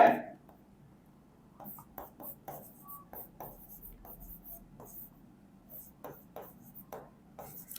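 Pen scratching on paper in short strokes and bursts, writing out an accounting ledger entry, close and fairly quiet, with soft speech running over the writing.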